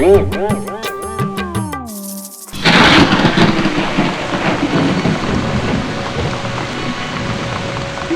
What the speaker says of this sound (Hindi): बारिश को हुए 5 दिन हो चुके हैं, थोड़ी देर के लिए भी रुक ही नहीं रही है।